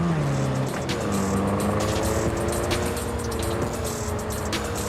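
A car drives steadily in a video game under a looming storm, its engine a constant close drone with shifting tones and no breaks.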